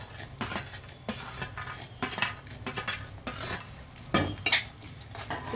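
Cumin seeds, coriander seeds and garlic fry in oil for an Andhra cactus-leaf chutney, with a soft sizzle under repeated scraping and clinking of a spoon stirring in the pan.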